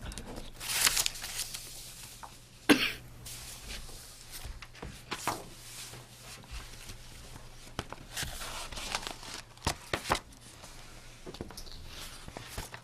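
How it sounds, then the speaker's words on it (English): Paper crackling right at the microphone during a town selectmen's meeting, bursts of crinkling and rustling at irregular intervals, some sharp and loud, over a quiet room. "all that paper crackling going in the microphone"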